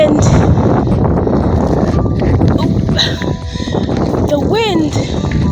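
Heavy wind roar buffets the microphone on a fast downhill bike ride, loud and constant throughout, with a brief whistling tone near the end.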